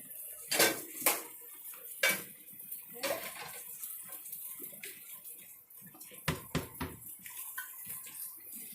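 Cooked food being strained at a kitchen sink, with metal pots and utensils clanking in several sharp knocks over running water and a steady drain wash.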